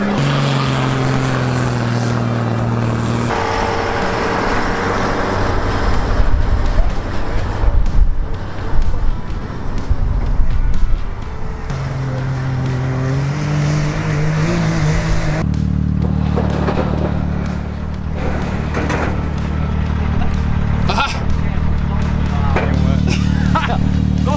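A rally vehicle running laps to build speed in the Moroccan desert, its engine droning steadily and loudly with shifting pitch as it rises and eases, while people talk over it throughout.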